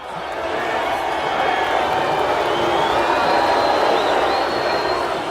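A large hostile arena crowd roars in a dense, sustained wall of noise as a fighter walks toward the ring, swelling slightly and holding loud throughout with no clear individual voices.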